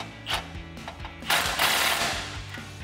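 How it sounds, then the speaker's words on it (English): A 15 mm socket on an extension and swivel tightens a clamp on an aftermarket cat-back exhaust, giving quiet mechanical ratchet clicks and a short burst of scraping metal, close by. "we can take a 15 millimeter socket on an extension and a swivel"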